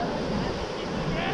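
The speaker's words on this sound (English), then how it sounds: "The swells, the waves." Ocean waves break along Misquamicut Beach in a constant broad wash of surf, with wind noise hitting the microphone and voices faintly mixed in.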